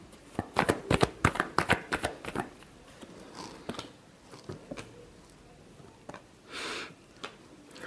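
Tarot cards being shuffled in a run of quick, crisp riffling bursts, dense at first and then sparser, with a softer flutter near the end; no voice is heard.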